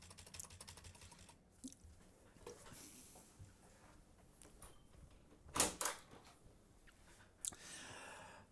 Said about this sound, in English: I'm going to come here and type the following.